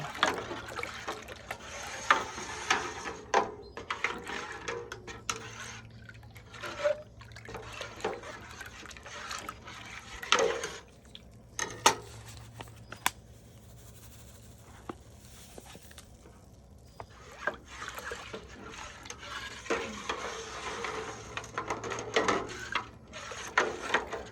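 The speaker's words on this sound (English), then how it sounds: "as you're adding, definitely stir and make sure to sort of scrape the bottom" Wet stirring and scraping along the bottom of a Ceriops tagal natural dye vat, with irregular knocks and sloshing patter continuing throughout, fairly close.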